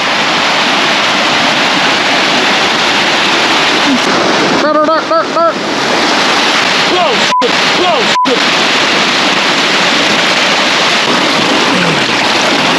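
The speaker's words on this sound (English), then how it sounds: "The waterfall." Clear Creek rushes over a small waterfall in the mountains, a loud, constant broadband roar that fills the whole clip, with a few brief tonal sounds cutting through near the middle.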